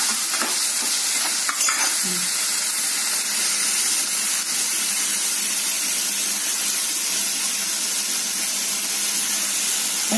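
Tomatoes frying and being stirred in a pan for a paneer palak dinner dish, giving a steady, close sizzle with scraping stir strokes throughout, no talk.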